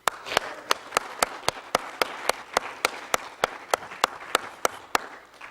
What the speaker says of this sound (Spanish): Den un aplauso más fuerte